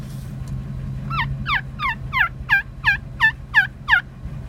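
A wild turkey gobbler sounds off outdoors near a flooded boat ramp parking lot. It gives a string of about nine rapid, rattling gobble notes in a steady rhythm, clear and moderately close, over a low background hum.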